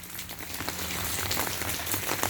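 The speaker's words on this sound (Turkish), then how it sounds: "Baya yağmur yağıyor mübarek hava." A short stretch of steady, heavy rainfall in a village, close and continuous, drops pattering densely on a surface with a faint low hum beneath.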